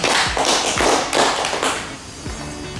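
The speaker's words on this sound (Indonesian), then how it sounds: "Aplaus buat Mbak Zian." Audience applause at a government employee orientation seminar in Surakarta, a dense, loud burst of clapping that carries on steadily, then thins out toward the end.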